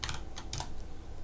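Quick, light clicks on a computer keyboard, a few closely spaced keystrokes in a short burst, quiet and close with no talking.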